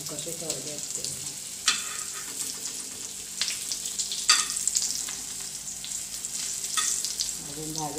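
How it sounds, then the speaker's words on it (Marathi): Stuffed chillies roasting in a pan over low gas, a steady soft sizzle close up, broken by occasional scraping and clinking as they are stirred and turned. "आता ही भाजून घेते चांगले असे बारीक गॅसवर भाजले ना."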